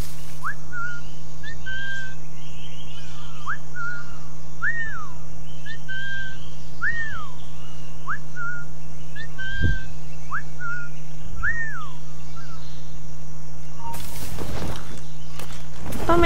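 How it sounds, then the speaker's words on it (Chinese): In Assassin's Creed IV Black Flag, a character hidden in a bush gives a series of about nine short, evenly spaced whistles over a low steady game hum, followed by a brief noisy burst near the end. "从这个草丛吹哨，"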